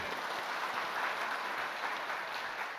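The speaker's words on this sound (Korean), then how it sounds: "박수 한번 합시다." A church congregation applauds during a Korean worship service. The clapping is dense and even, holding at steady strength for the whole stretch without pauses.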